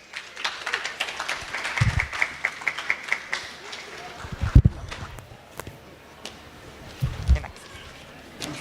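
Scattered applause from an audience at a community imbizo gathering as someone speaker walks up, with loose claps, thumps and murmuring voices over steady room noise.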